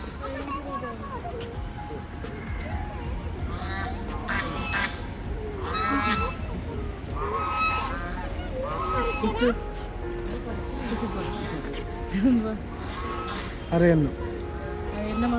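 Several ducks call and honk at intervals at Thiruvananthapuram Zoo, Kerala, some loud and close, while people talk over them throughout.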